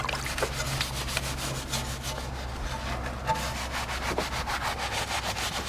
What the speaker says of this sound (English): Really get in there and scrub.